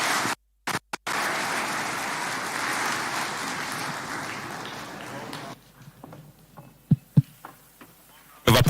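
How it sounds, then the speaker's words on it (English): An audience applauds at a Katiba Day 2025 commemoration. A steady, fairly soft wash of clapping lasts several seconds, then fades, and faint talk and scattered sounds take over. "Applause for His Excellency."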